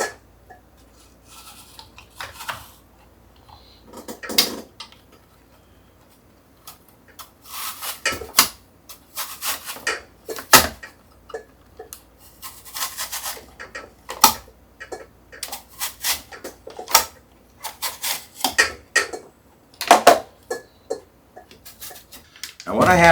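Thick apple slices being cut on a mandolin, a series of sharp clacking strokes that quicken into a steady uneven rhythm, close and crisp over a quiet background.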